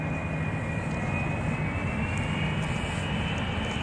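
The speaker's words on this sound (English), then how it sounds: "He's coming in to land." A fixed-wing airplane coming in to land at the Westfield airshow in 2010 produces a loud, steady engine roar that holds unbroken for several seconds.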